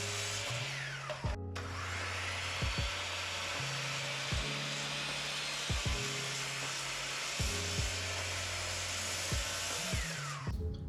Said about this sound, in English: So now I'm just cutting down my shelf to length.